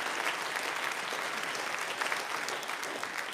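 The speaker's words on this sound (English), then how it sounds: "A round of applause, please." Sustained audience applause at a small live music venue event, a dense, steady wash of many hands clapping that holds at an even level throughout, with no talking over it.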